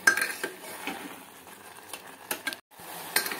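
Carrot halwa with sugar being stirred in a pan over a medium flame, giving light utensil scrapes and clinks at an irregular pace, fairly quiet and close, with a short pause near the end.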